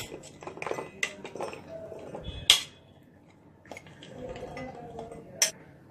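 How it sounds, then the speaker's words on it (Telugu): Pieces of coconut drop into a mixer jar, making a few soft, close clunks and light clinks spread over several seconds, with no talking. "మిక్సీ జార్లో కొబ్బరికాయ ముక్కలను వేసుకొని"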